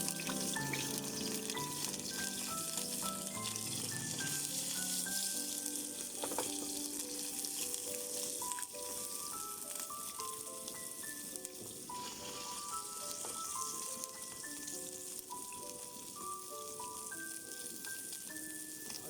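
A pork chop sizzling steadily in a pan, a continuous frying hiss beneath background music, with no talking.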